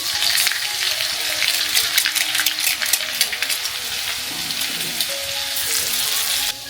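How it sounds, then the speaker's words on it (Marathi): Mustard seeds, cumin and chopped garlic fry in hot oil for a masala bhendi dish, a bright crackling sizzle with popping spatters that eases off slightly toward the end. "मोहरी छान तळतळली की त्यात आपण घालून घेऊया जिरे, बारीक करून घेतलेला लसूण"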